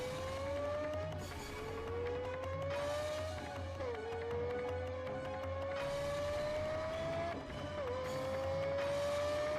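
A car drives fast with tires squealing and skidding, the sustained high squeal rising and falling over a loud engine drone through the whole stretch, with no talk.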